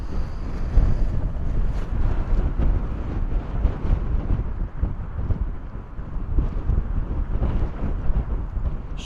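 Gusty wind at Bristol Airport buffets the microphone in a continuous, loud, rumbling roar that swells and dips with each gust, with no talking.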